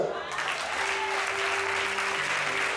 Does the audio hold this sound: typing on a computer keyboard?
no